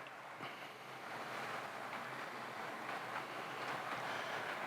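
Model railway locomotive fitted with a control chip, slowly gaining speed as it pulls its train: a steady whirring rumble that holds at an even level throughout, with no voices.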